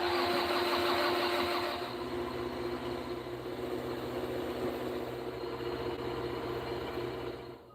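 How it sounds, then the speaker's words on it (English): Engine being cranked over, a loud rough whirring with rhythmic low pulsing that eases slightly after the first couple of seconds and cuts off at the end, without talking. "I'm turning the engine over doing this."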